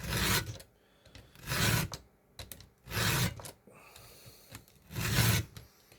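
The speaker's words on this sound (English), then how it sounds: "But I really like this steel chainsaw sharpener." A steel chainsaw sharpener rasps across chainsaw teeth in four long, even strokes with brief clicks between, close and loud with no talking.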